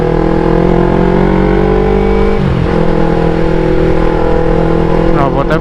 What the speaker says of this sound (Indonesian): Knalpotnya bacot banget.